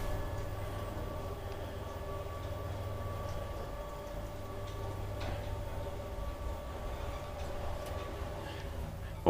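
Old Kone traction elevator in a Varkaus apartment building, original motor after VF modernization, running with a steady low hum and faint ticking, car noise fairly quiet and continuous with no speech.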